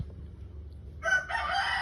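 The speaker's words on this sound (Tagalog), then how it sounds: "Ingay talaga ng manok" A rooster crows nearby in a short, loud burst that starts abruptly after a quiet low background hum.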